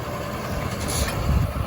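A farm tractor, carrying all its weight up front, grinds its engine and spins its wheels while nearly stuck, giving a steady, noisy low rumble that swells slightly toward the end with no talking.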